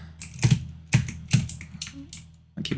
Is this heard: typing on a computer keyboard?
yes